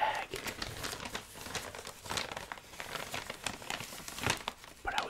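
A Wendy's paper fast food bag is crinkled and rustled up close, with continuous crisp crackling and a few sharper crumpling bursts throughout.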